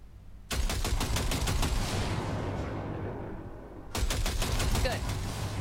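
Rapid automatic gunfire blasting into a pile of junk in Cyberpunk 2077, one long sustained burst of sharp cracks, a brief pause, then a second loud burst, close and dominant.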